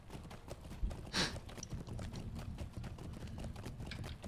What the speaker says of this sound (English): Grab the horse, and off we go.